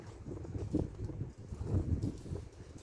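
Steady wind buffets the microphone outdoors, a low rumbling gusty roar that swells and dips throughout.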